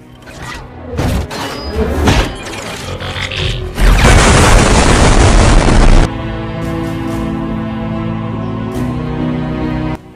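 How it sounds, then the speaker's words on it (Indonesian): The robot Blitzwing explodes in the film Bumblebee: a loud, dense burst of blasting and crashing debris swells and then cuts off abruptly, leaving a sustained rumbling tone behind it. "membuat Blitzwing meledak hancur berkeping-keping"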